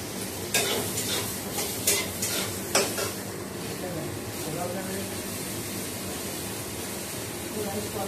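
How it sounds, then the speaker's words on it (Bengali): Potatoes frying in a pan make a steady, close sizzle, with a few sharp spatula scrapes and clinks early on and a muffled voice faintly underneath. "আর আলুটা ভাজছি"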